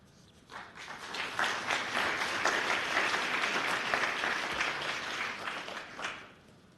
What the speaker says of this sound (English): Thank you for the applause.